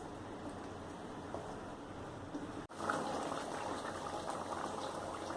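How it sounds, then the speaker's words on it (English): Butter chicken gravy simmers in a pan with steady, dense bubbling and popping at close range, broken by a momentary gap midway before the bubbling resumes. "Mix them and let them cook until the gravy thickens."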